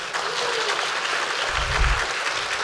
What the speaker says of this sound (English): we ask everyone to join us in giving them a well-deserved round of applause.